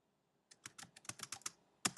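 Computer keyboard keys tapped quickly during a Neopets game, a close run of about a dozen crisp clicks after a brief silence, ending with two sharper strikes, no talking.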